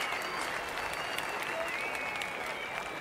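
Large cricket crowd applauding steadily at a 1988 New Zealand versus Sri Lanka match after a batsman reaches his fifty, a dense even wash of clapping throughout with faint commentary-like murmur beneath.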